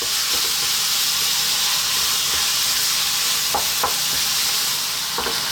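Liver and kidney for Ethiopian dulet fry in a pan with a steady, close, dense sizzle, broken now and then by a few soft stirring clicks.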